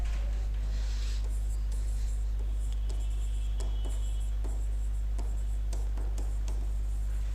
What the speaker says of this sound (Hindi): कैसे कुछ सेंटेंस लिख रहा हूं